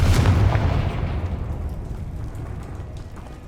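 A fiery Confringo spell explosion in the Hogwarts Legacy video game lands as one heavy booming blast that rumbles and slowly decays over a few seconds.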